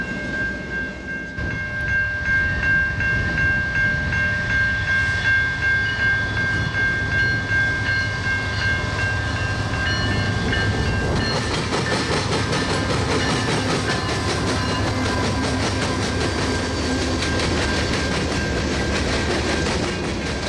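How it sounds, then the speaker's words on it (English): A loud CN train on the former EJ&E line in Griffith, Indiana rolls past close by, wheels clattering rhythmically over the Grand Trunk crossing, with a rumbling, sustained roar and a brief high horn tone early on. "This CN train is on the former EJ&E line and is crossing over the Grand Trunk"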